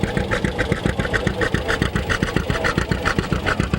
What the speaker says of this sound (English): I want you to kind of listen to this tractor as it goes by